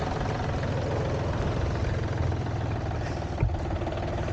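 A John Deere 790 tractor pulling a heavy camper, its engine running at a steady low, throbbing idle close by, with a single brief clunk partway through and no voices.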